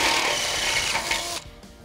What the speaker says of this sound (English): This step bit makes quick work of boring out these holes.